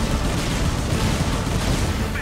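Dense, continuous gunfire roars through a battle in the mecha shooter game Mobile Suit Gundam: Crossfire, loud and unbroken across the whole stretch with no pauses between shots.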